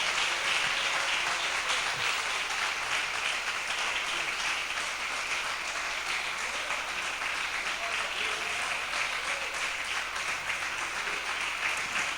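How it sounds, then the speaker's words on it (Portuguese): A church congregation applauds during a Sunday evening service, dense sustained clapping filling the whole stretch at an even level with no break. "Você pode aplaudir a Jesus"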